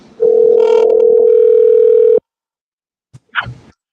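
A loud, steady telephone dial tone holds for about two seconds and then cuts off abruptly; after a short silence, brief faint handset sounds follow.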